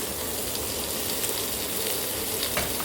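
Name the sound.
sautéing capsicum in a pan for fenugreek palav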